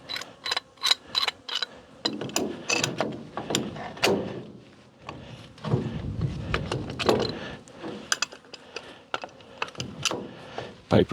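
Ratcheting wrench torquing a pipe fitting near a valve with little clearance: bursts of sharp metallic clicks in irregular runs, close and fairly loud, separated by brief pauses and clanks, with no talking.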